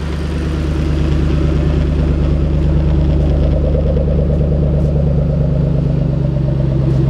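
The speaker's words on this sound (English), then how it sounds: "Now we've got the car fired up." A 2013 Shelby GT500's 662-horsepower stock V8 engine idles with a steady, throbbing low rumble, loud and close, running evenly with no talking.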